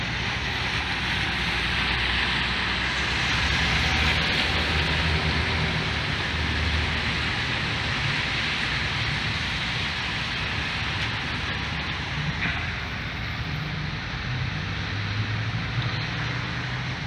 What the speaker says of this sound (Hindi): First walk in the rain.